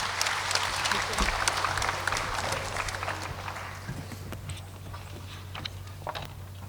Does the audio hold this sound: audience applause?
yes